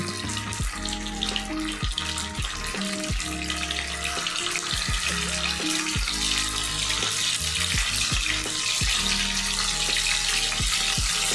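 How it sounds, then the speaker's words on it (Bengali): Chhena cheese balls fry in hot oil with a steady crackling sizzle throughout, punctuated by repeated clinks and knocks of a utensil against the pan, close and alone without talk. "তেলটা গরম হয়ে গেছে। তাতে আমি যে ছানার বলগুলি ছিল এটাকে একটু ভেজে নিব"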